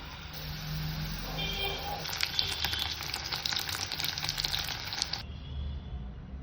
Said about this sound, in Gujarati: એની અંદર સૌથી પહેલાં બટેકા મસ્ત ફ્રાય કરી દઈએ